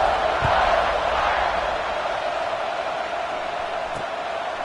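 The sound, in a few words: football stadium crowd buzzing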